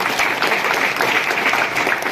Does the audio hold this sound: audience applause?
yes